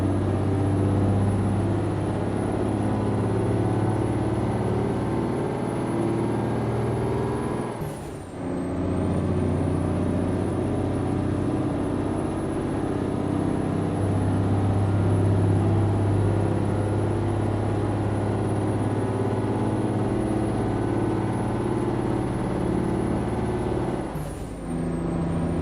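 A Mack R heavy-haul truck in American Truck Simulator holds a loud, steady high-rev engine drone with a deep rumbling hum, briefly dipping twice as if shifting, then returning to the same sustained pitch.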